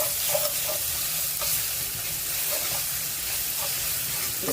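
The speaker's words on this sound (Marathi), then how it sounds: "आलं लसूण पेस्ट घातली" Ginger garlic paste frying in a pan with ground whole spices for a chole gravy, a steady close sizzle broken by soft periodic scrapes of stirring.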